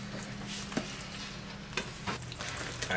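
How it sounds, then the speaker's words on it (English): Chocolate mixture is mixed into Aztec fudge cake batter with a spoon, a soft continuous wet stirring with a few sharper scrapes and clicks against the bowl, close and quiet. "And then we're going to want to mix this up very thoroughly."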